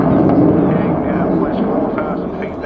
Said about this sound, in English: The EJ200's in fully lit up afterburner.